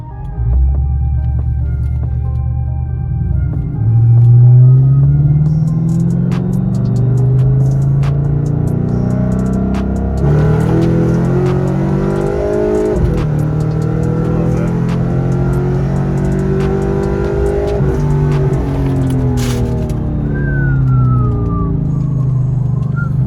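A Pontiac G8 GT (Holden Commodore) V8 sedan accelerates hard through second, third and fourth gear, its loud engine note climbing and dropping at each upshift, with passing traffic heard at the start.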